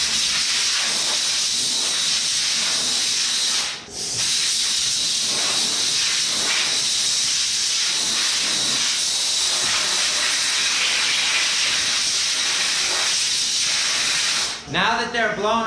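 Compressed air blowing off metal parts before taping for powder coating, a loud continuous hiss that drops out briefly once, then resumes close and steady before cutting off near the end.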